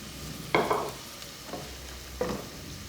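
Liver frying in a pan beside cooking onions, with soft sizzling broken by three brief scraping stirs or shifts of the meat, fairly quiet and close with no talk.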